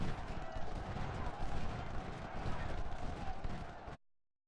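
Massed Civil War artillery and musket fire in a strategy video game at the Battle of Prairie Grove, a dense, continuous roar of overlapping gunshots that holds steady and loud for about four seconds before cutting off.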